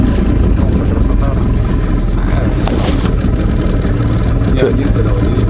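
Outboard motor on a boat on the Kama River running steadily with a loud, continuous engine drone throughout, heard up close, with a voice talking over it.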